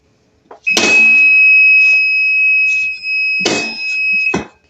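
Shrill continuous beeping from the side stand buzzer of a Bajaj Kristal scooter converted to electric, a steady high tone lasting several seconds close by, with clicks and handling noise around it.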